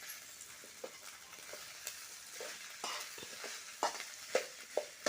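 Fish roe frying with ginger paste in a pan, a steady close sizzle broken by scattered pops and the scrape of stirring at irregular intervals.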